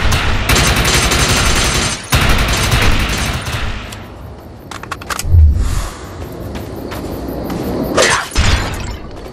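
Gunfire from the video game Defiance as a player shoots enemy projections: loud, dense bursts of automatic fire with sharp cracks and shattering hits, broken by brief pauses and a deep thump midway, with no talk.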